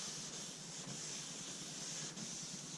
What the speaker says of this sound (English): I like to fold these edges up just so you don't get any stray sanding marks.